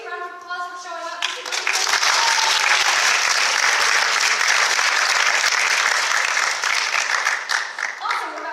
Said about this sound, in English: Let's give you a round of applause for showing up.